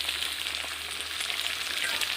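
Duck meat tipped into a pan of frying onions and pumpkin gives a loud, steady, close-up sizzle with a faint bubbling hiss throughout and no voices.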